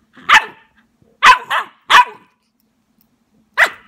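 A golden retriever puppy barks indoors in four sharp, close yips, one of them doubled, spaced by short pauses with no talk in between.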